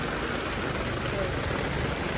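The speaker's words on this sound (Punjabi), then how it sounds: "ਲਓ ਵੀ ਮੀਂਹ ਪੈ ਗਿਆ" Rain falls steadily on a tournament ground in a dense, even patter across the whole stretch, a constant wash of drops with no other sounds standing out.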